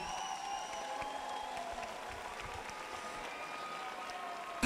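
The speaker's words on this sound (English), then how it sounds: "Let's have a round of applause for both men," A crowd at an MMA fight night applauds both fighters after a bout, a steady spread of distant clapping with some cheering, filling the whole stretch at moderate volume.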